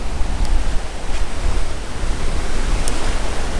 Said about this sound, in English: throwing against the 25-mile-an-hour wind